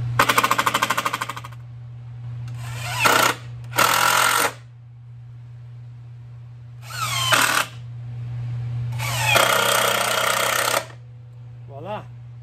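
A belt lacer machine, clamped temporarily to a trailer step, presses lacing clips onto a belt in several loud mechanical bursts separated by pauses, over a constant low hum.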